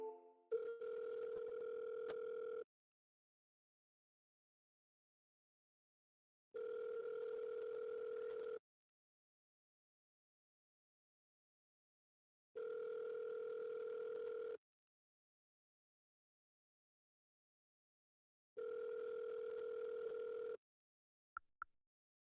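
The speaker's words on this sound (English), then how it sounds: "Call has been forwarded to an automated voice messaging system." A telephone call rings out through a handset before going to voicemail, with four identical long ring tones evenly spaced about six seconds apart by silence, clear and steady, and a short blip at the end.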